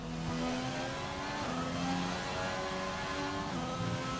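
A Renault Formula 1 car in a racing game at Monaco powers out of a corner, its high-pitched engine revving up in repeated rising sweeps with gear changes, steady and prominent with no talking.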